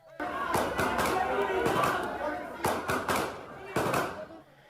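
Several sharp gunshots go off in two or three quick bursts over loud, agitated crowd noise and shouting outside a school.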